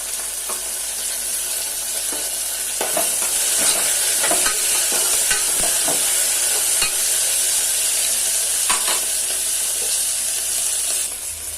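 Tomato pieces frying in a pan give a steady, loud sizzle throughout, with a spoon scraping and stirring in intermittent clicks and knocks, close by and with no voices.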